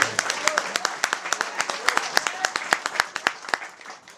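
Audience at a book launch event clapping in a quick, even rhythm, a steady run of sharp claps from a small crowd that fades out near the end.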